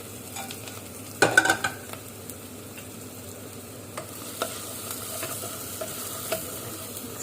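Kikiam pieces drop into a hot pan with bean sprouts, giving a short burst of clatter and hiss, followed by a low steady sizzle with scattered light scraping and stirring knocks.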